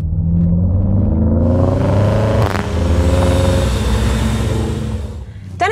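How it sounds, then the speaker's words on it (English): A 2019 BMW X5 40i with a 340-horsepower six-cylinder petrol engine and M Sport exhaust revs up close by, its smooth tone climbing, dipping briefly, then rising again and settling. "The smooth sound of the 40i six-cylinder petrol engine with 340 horsepower and M Sport exhaust system."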